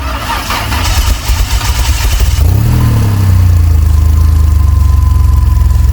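A car engine fires up loudly and revs through a custom stainless exhaust, then settles into a deep, steady rumble close by.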